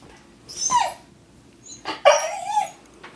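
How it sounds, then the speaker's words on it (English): A husky mix dog whines and whimpers for attention in two drawn-out, high-pitched bursts, close by, with a short yip at the end and quiet between. "Roxy is a husky mix who came in very shy and now requires to be pet and loved at all times, or she makes this noise"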